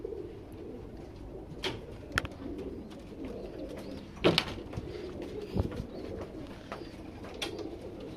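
Chinese-breed breeding pigeons coo softly in a loft, several low rounded coos spread through quiet background with a few faint clicks and knocks.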